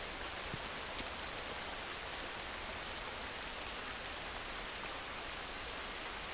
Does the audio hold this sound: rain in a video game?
yes